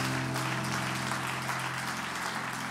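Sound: church congregation hand clap of praise

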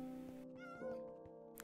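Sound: Minecraft cat meowing, from a video game

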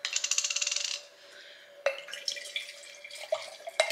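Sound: pouring a drink into a cup without ice

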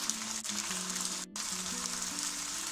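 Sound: onions and tomatoes sautéing in pan

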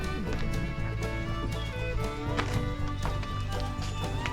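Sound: horse-drawn carriage hooves clip-clopping

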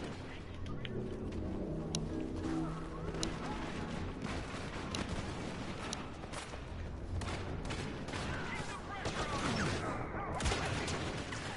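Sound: blaster cannon fire in Star Wars Battlefront video game

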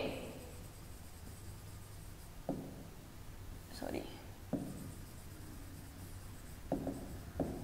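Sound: writing on a board

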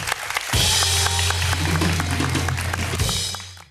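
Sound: applause

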